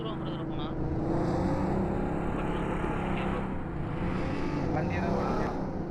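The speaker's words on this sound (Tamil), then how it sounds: "வண்டி ஏதோ வந்துட்டான்" A vehicle arrives in a battle royale mobile game, its engine a steady motor hum rising slightly as it draws near, heard faintly under ongoing game sounds with voices around.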